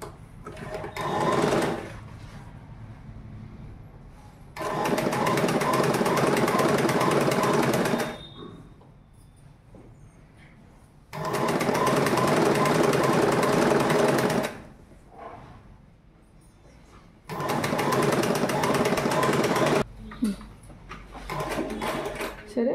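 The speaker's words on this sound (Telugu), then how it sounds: "సరే, 1 సైడ్ అయితే ఇట్లా కుట్టుకున్నా," An electric sewing machine stitching nicker uniform fabric runs in three long loud bursts of rapid mechanical chattering, each several seconds long, separated by quieter pauses with faint handling sounds, close to the listener.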